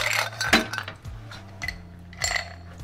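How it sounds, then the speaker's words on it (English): Ice cubes clinking and rattling in a Boston glass while a strawberry mojito is made, several close, bright clinks in bursts, with no voices. "a Boston glass full of ice cubes"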